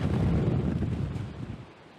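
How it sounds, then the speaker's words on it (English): Hurricane Laura's winds gusting outside a hotel, a loud, dense roar that buffets the microphone and then eases slightly toward the end. "Right now, a lot of wind."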